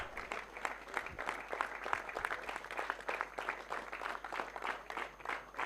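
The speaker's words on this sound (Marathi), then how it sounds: "टाळ्या" A crowd claps at a cricket tournament prize distribution as the player of the tournament award is presented, a steady round of applause from a modest gathering lasting several seconds.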